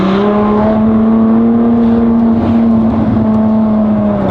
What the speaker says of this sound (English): And that's like not straight pipe. That's like a tame gentleman's exhaust.